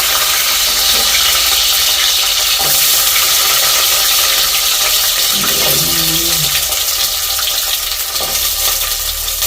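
Small shallots frying in hot oil make a loud, dense, continuous sizzle right up close, with a few faint clinks and shifts of the pan, and no one speaking over it.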